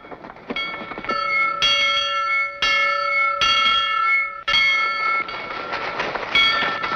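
A meeting-house bell tolls repeatedly in a steady rhythm, loud and ringing with long overtones, each strike layered over the last, in a colonial frontier village scene from a period drama.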